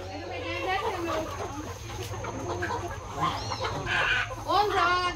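Chickens and a large rooster cluck and call in a busy, fairly faint farmyard scene, with scattered squawks rising toward the end while people talk nearby.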